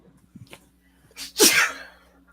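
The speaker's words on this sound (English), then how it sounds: "I'm trying to mute myself so you don't hear me sneeze." A single loud sneeze bursts out mid-clip, preceded by a few faint sharp inhalations and small mouth noises, with a low steady hum underneath.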